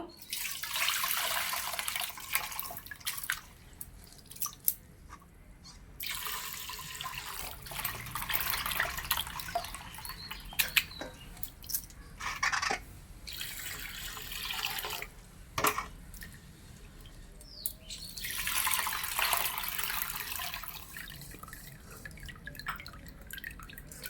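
Rice being washed by hand in water, with intermittent drips, trickles and small splashes coming in bursts at close range, fairly quiet, and no one talking.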